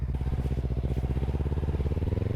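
A Kawasaki Z300 motorcycle engine putters steadily on a ride home, a close, even pulsing throb with no talking.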